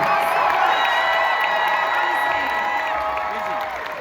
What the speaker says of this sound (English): Can you please give a huge round of applause for them?